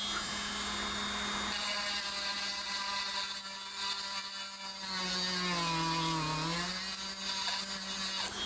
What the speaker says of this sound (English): Don't hold the Dremel.